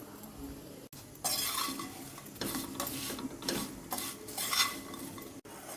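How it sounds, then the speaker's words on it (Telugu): Potato pieces tossed with salt, chilli, turmeric and coriander powder are stirred in a pan, giving repeated metal spoon scrapes and clinks over a light sizzle, close and uneven. "ముక్కల్ని ఇందులో వేసేసుకొని ఉప్పు, కారం, పసుపు, ధనియాల పొడి ఇవి వేసేసుకొని ఈవెన్గా కలుపుకోవాలి."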